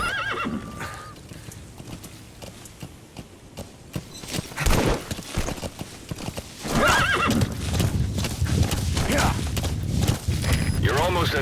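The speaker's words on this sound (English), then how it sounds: "Use your horse." Horse hooves clip-clop steadily in Metal Gear Solid V: The Phantom Pain, broken by loud whinnies and neighs. A bit of mechanical clatter sits in the game soundscape, with gaps of quieter ambience between the hoof sounds.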